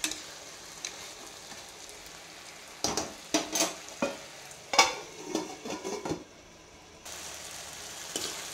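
Bisi bele bath being stirred in a pot, with a faint steady bubbling simmer broken by a run of soft scraping, sloshing stirs in the middle, then quiet simmering again.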